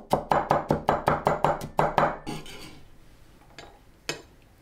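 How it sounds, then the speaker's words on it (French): A knife finely chopping five garlic cloves on a cutting board, about a dozen brisk, evenly spaced chops, then a few scattered lighter taps. "Je hache finement 5 gousses d'ail."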